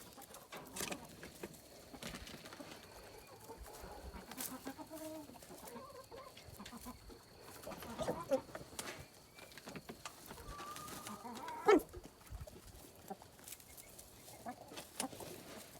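Chickens cluck softly and intermittently, with occasional rustling and handling noises in a quiet setting.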